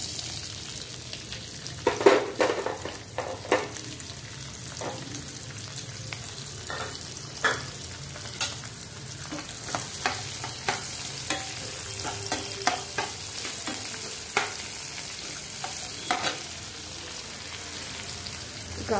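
Onions frying in hot oil for pasta, a steady sizzle running throughout, broken by frequent stirring scrapes and clinks of a spoon against the pan.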